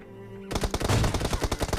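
Machine gun fire in PUBG Mobile gameplay, a sudden loud rapid burst of automatic shots that starts after a brief quiet moment and keeps going, close and dominant with no speech.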